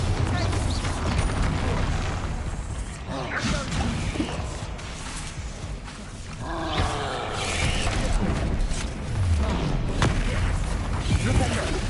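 The Bombarda blasting spell goes off in the Hogwarts Legacy video game, a loud booming explosion with roaring whooshes layered over a dense mix of game effects, while a voice calls out spell names.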